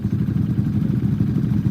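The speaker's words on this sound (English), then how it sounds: "Got two of our 4x4 ATV Pro Mods up here." Two 4x4 ATV Pro Mod quads, Can-Am Outlander and Renegade, idle at the line of a drag race, giving a steady low throbbing engine rumble, close and continuous with no speech.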